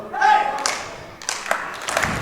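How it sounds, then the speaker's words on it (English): A wrestling crowd at a Harlow show claps in uneven bursts under a commentator's talk, the clapping scattered and moderately close. "JJ Lynch getting the Harlow crowd to clap"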